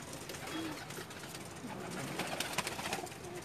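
Pigeons coo softly in a soft, uneven chorus amid steady outdoor background noise, with no one speaking over them.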